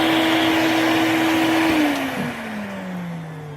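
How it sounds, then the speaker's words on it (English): Shop vacuum pulling sawdust from beneath a scroll saw, a loud steady motor whine that drops in pitch and winds down as it is switched off partway through. "Well, I'll turn the vacuum off."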